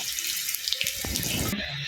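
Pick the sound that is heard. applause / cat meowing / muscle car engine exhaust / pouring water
pouring water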